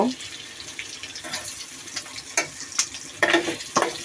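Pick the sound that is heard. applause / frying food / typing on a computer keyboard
frying food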